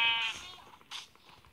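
A sheep in a survival crafting video game gives two short bleats, the first longer and clearer, the second brief and fainter, with no talk over them.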